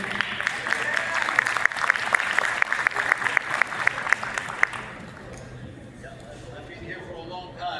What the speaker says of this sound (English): So let's clap for Fallon.